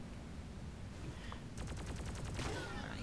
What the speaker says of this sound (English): It sounds like there's like a detonator or something